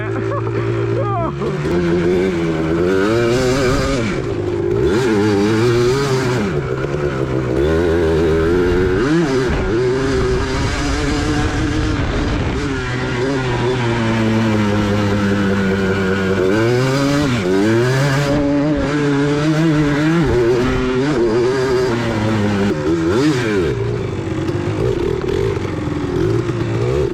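Quads and dirt bikes racing together on a fenced dirt track, engines revving and shifting pitch continuously as they speed around corners, loud and close throughout, with riders' voices occasionally heard over the motors.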